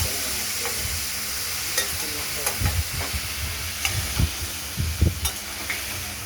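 Cubed ash gourd fries with shrimp and ground spice paste in a pan, a steady close sizzle and hiss broken by repeated scraping and stirring knocks from a spoon.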